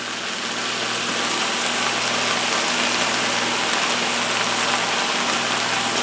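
An okra medley sizzles hard in a hot pan just after water is added, a loud, steady, close hiss with a faint low hum underneath and no talking.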